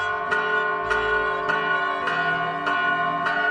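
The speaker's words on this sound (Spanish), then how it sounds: "Escucha, Antonio, ya es mediodía y las campanas nos invitan a detener un momento nuestras labores para hacer oración" Church bells ring out at midday, their strikes repeating roughly every 0.6 seconds over a sustained, humming tone that carries on without pause, loud and near with no voices over them.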